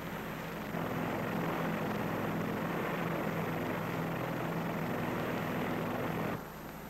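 P-2V Neptune propeller aircraft flying over a nuclear test area, a loud, steady engine drone with broad rushing noise, rising after a brief softer start and easing near the end, heard alone without speech.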